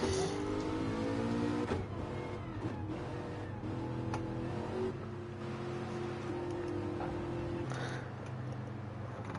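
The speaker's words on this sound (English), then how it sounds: "Sounds good, this Porsche." A Porsche race car in Gran Turismo 7 holds a steady engine drone with shifting pitch, like a car under load on track, accompanied by a continuous road rumble and a few sharper transient noises.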